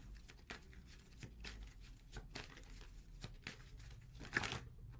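Tarot cards are shuffled by hand in soft, irregular bursts of riffling and papery slaps, close and quiet, with brief pauses between rounds.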